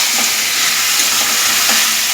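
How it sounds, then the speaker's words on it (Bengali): Meat cooks in a pan and gives off a loud, even, steady frying sizzle and hiss that fills the whole moment, with a few faint clinks beneath it. "এখানে মাংস রান্না হচ্ছে"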